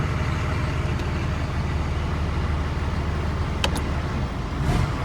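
A diesel pickup truck with a 6.4 liter engine and 5R110W transmission driving in second gear, a steady low engine drone and road rumble throughout, with a couple of brief clicks near the end.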